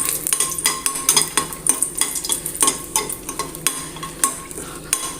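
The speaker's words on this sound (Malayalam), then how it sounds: "2-3 വറ്റൽമുളക് ഇട്ട് കൊടുക്കുന്നുണ്ട്." Two or three dried red chillies fry in hot coconut oil, crackling and sizzling while a utensil stirs and scrapes the pan in irregular bursts, close and clear, with no speech.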